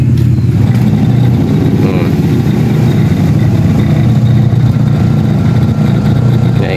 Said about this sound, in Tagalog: Ayos po, ang ganda pang ikot ng motor niya.